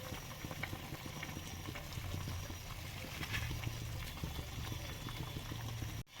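Chopped onion goes into a simmering shol (snakehead) fish curry, which bubbles and sizzles quietly with small clicks and stirring sounds, cutting off abruptly at the end.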